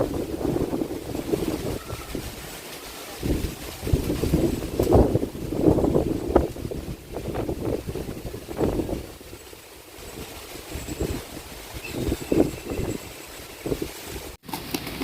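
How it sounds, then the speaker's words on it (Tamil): Strong wind gusts around a house with trees, rushing and buffeting the microphone in uneven surges that rise and fall throughout, with no talking. "நம்ம வீட்டில் காற்று கொஞ்சம் அதிகமாகவே இருக்குது"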